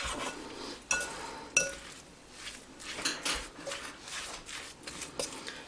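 Salmon loaf ingredients are mixed in a bowl, with a spoon scraping and clinking against the sides and sharp knocks in an irregular rhythm, nearby and with no talking.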